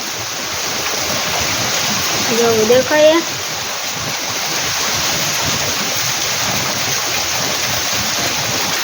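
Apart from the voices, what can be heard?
torrential heavy rain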